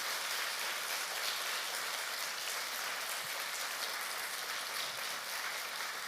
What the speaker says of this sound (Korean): 우리 크게 박수로 격려하겠습니다